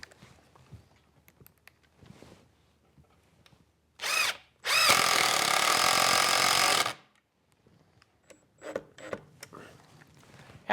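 Power drill driving long screws through table legs into the stretchers, a short burst then a sustained loud whir of about two seconds, with quiet workshop handling clicks and knocks before and after.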